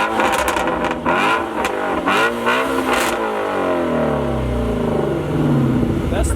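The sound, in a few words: Audi V8 engine revving against the limiter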